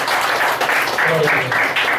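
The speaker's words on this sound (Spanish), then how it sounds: "Démosle un aplauso al Señor, ¿no?" A church congregation claps in steady, loud, close applause that lasts the full two seconds, with a voice briefly heard over it.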